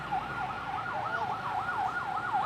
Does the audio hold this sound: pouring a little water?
no